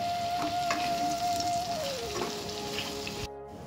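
Bell peppers fry in a spice mixture for paneer butter masala, giving a steady close sizzle with a sustained tone running through it, which cuts off abruptly near the end.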